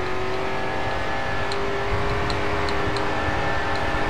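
Race car engine in the Grid 2 racing game, a steady continuous drone with a sustained tonal hum held at an even level for the whole stretch, with faint ticks here and there.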